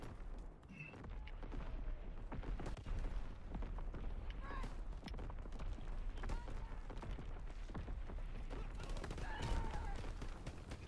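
Artillery barrage from a video game killstreak, a steady dense rumble of distant booms and blasts rolling on without pause, with faint voices underneath.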